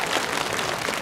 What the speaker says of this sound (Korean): 여러분 큰 박수로 법사 스님들께 감사의 박수로 부탁드리겠습니다